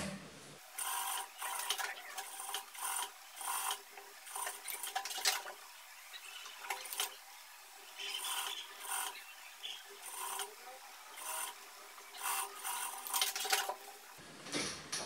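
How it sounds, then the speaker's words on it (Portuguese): A sewing machine topstitches a seam on a ruffled blouse in quick, close bursts of rapid mechanical stitching, stopping and starting repeatedly with brief pauses as the fabric is guided. "E vai fazer um pesponto aqui pra ele ficar bacana"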